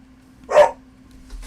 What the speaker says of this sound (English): I don't know why Wendy's barking like that